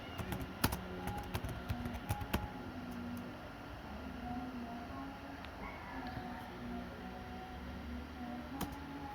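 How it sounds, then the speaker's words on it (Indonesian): Typing on a computer keyboard, quiet clusters of key clicks in quick bursts with pauses in between, close and faint over a low steady background hiss. "yaitu mengetikkan show standby."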